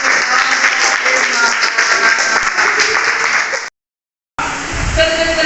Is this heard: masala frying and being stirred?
no